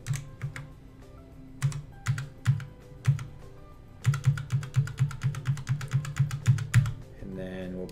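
Crisp, close computer keyboard typing as credit card details are entered, sounding first as scattered separate keystrokes and then as a faster steady burst of clicks, with a short tone at the end.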